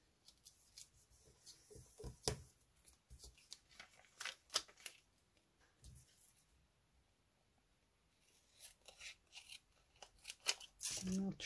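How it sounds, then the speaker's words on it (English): Scissors snip and trim excess card stock while making a birthday card, with several sharp cuts and paper rustling scattered through quiet talk. "And we'll trim off that excess there."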